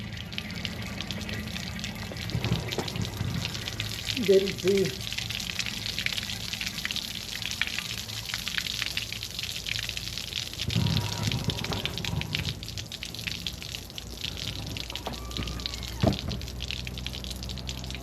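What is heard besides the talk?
water gushing out of a 1927 Dodge sedan gas tank fill spout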